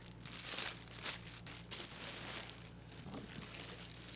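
Soft crinkling and rustling of a plastic bag wrapped around a new rolling backpack being handled, faint and uneven, with a few slightly louder crackles.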